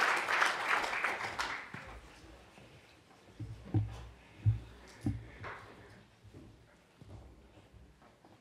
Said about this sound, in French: On peut applaudir Christophe Collet et Jean-Michel Adélaïde